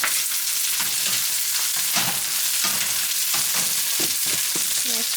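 Noodles and bean sprouts for shrimp pad thai stir-fry in a hot pan, with a loud, continuous sizzle and scraping stirring strokes close up.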